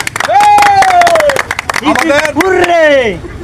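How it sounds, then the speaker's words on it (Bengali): A crowd claps for the winner of a children's indoor-outdoor party game, rapid scattered clapping that runs throughout beneath loud cheering and excited voices. "রনির জন্য জোরে একটা হাততালি।"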